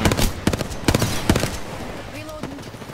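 Rapid weapon fire in Apex Legends, a burst of loud sharp shots in the first second and a half followed by quieter game tones, with a player talking over the action.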